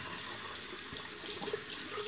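Steady running water from a tap rinsing at a sink, a continuous close gushing wash with no talking.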